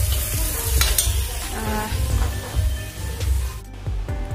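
Sizzling and stirring in a pan, with scraping strokes and bubbling hiss of a red pumpkin curry cooking close up, no voices.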